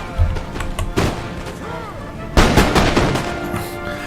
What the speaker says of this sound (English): And now they bring out their first volleys.